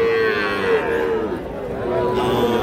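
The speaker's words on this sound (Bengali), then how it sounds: "এগুলো সবই কিন্তু ষাঁড় বাচ্চা" Bull calves moo at a busy rural cattle market, with one long, wavering bellow close by and faint crowd chatter underneath.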